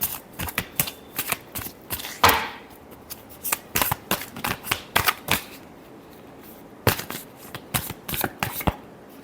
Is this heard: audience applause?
no